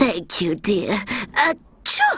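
An elderly woman with a dreadful cold sneezes inside a building, close and fairly loud, right beside her own talk.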